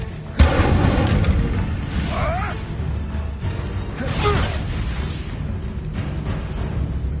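An Incendio fire spell is cast in the Hogwarts Legacy video game on PS5, a sudden loud burst near the start giving way to a continuous roaring rumble of game combat with whooshing effects.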